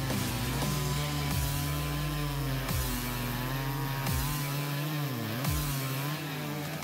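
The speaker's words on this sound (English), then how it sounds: "881 versus Homelight saws were competing against each other" A big chainsaw cuts into a tree, its engine a loud, steady high-pitched drone. Pitch dips and recovers several times as the chain bogs in the wood.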